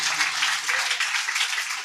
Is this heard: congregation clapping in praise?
yes